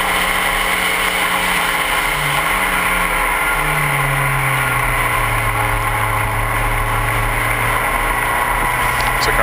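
Spec Racer Ford race cars at an SCCA club race in San Francisco climb a hill on track, their engines droning loud and steady, one engine note sliding in pitch as cars battle for position, with no talk.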